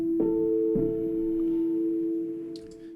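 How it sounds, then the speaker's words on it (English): Piano notes from a Waymaker MIDI sequencer played in Outgrowth, two struck attacks ringing into a long sustained tone that slowly fades, clean and alone with no talking. "The one on the left is going to sound like this piano."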